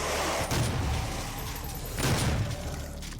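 Gunfire rattles in DOOM (2016): a continuous loud barrage of heavy blasts and booming shots, with two stronger surges, no voice over it.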